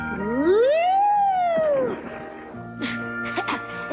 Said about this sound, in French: N'entends-tu pas le pipeau?